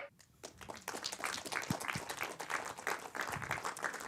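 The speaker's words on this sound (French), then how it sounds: "Vous pouvez applaudir le film et applaudir notre invitée" Audience applause after a film screening at a masterclass, a dense steady patter of many hands that swells in within the first half second and holds loud and even to the end.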